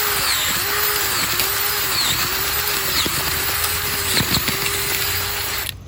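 Power planter auger drill boring into garden soil for replanting gladiolus bulbs, a steady high electric motor whine with a repeating pulsing rise and fall, close and loud throughout before cutting off at the end.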